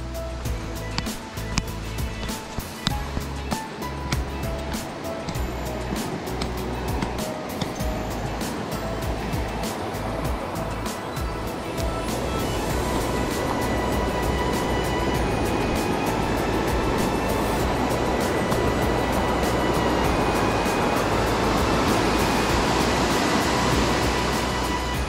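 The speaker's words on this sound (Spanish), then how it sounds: "Estamos en una zona de rápidos del río." Rapids on the Tambre river near Ponte Maceiras in Galicia, a steady broadband roar of rushing water that grows fuller and louder through the second half, with no voices over it.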